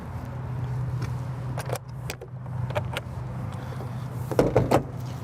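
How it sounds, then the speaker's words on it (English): A small tack closet door on a 2025 Cimarron Norstar 3-horse gooseneck trailer is shut, giving a few close latch clicks and a solid thump over a low steady hum. "Now I'm going to go ahead and shut the smaller door."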